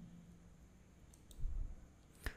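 A single sharp computer mouse click on an update button, quiet and close, against faint room hum.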